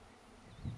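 A brief honeybee buzz near migratory beekeepers' hives in Şırnak, Turkey, drifting past close by, rising in pitch and swelling toward the end of a short, quiet moment.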